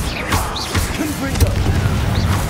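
Bombarda blasting spell going off in the Hogwarts Legacy video game, a loud booming burst amid steady game sound and a voice calling out spell names.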